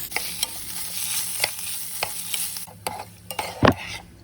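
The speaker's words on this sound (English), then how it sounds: "add in some onions. And to help the onions start sweating a little bit, I'm going to add in some salt and a little bit more ghee." Onions, green chilies and salt fry in ghee in a pan, with a steady sizzle broken by sharp, regular scrapes of a stirring spoon and a louder clatter near the end.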